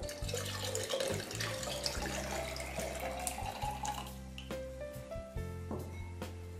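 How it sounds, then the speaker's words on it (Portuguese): Cold water poured into dissolved strawberry gelatin for a strawberry pudding, a steady close splashing stream running throughout with no talk. "Acrescente a água fria"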